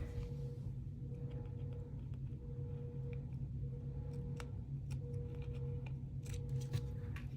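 Scissors trimming lace on a paper doll, heard as faint, quiet snipping clicks close by over a low steady background hum.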